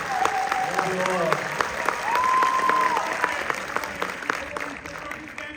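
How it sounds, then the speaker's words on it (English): Audience applause in a hall after a fan Q&A session with an actor, sustained clapping throughout with brief tonal whistles or cheers rising above it. "We are going to one more round of applause."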